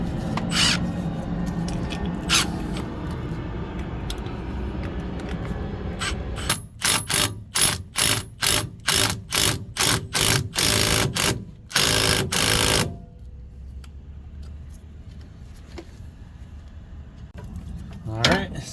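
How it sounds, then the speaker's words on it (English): A hand ratchet tightens a loose sway bar bushing bolt, giving a rapid run of about a dozen loud, evenly spaced clicks after some quieter handling noise, then fading into near quiet. "Alright, we're just gonna tighten it up."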